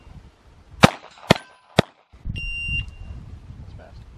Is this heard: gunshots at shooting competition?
yes